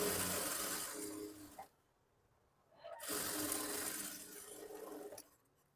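A sewing machine runs in two bursts, stitching a blouse lining piece onto fabric, with a steady whirring hum broken by a brief pause in the middle and stopping near the end.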